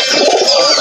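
Pigeons being fed, with a short close cooing call from the birds.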